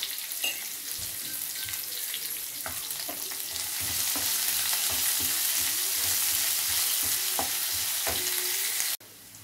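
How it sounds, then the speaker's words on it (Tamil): Onions with added salt sauté in a pan with a steady, loud hiss of frying, broken by occasional scraping stirs. The sizzle continues throughout, then drops sharply right at the end. "நான் வெங்காயம் கொஞ்சம் வதங்கிறதுக்கு வந்து கொஞ்சம் உப்பு ஆட் பண்ணிக்கிறேன்."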